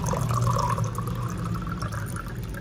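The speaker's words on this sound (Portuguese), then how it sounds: "Coloco a água." Cold water is poured into a glass for a creatine drink, a close, steady liquid stream lasting a few seconds.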